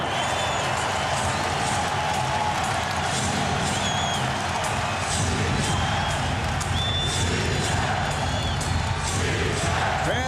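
A capacity crowd at Staples Center cheers through the 2001 NBA Finals Game 2 between the Lakers and 76ers, producing a dense, sustained roar of voices and whoops with no break.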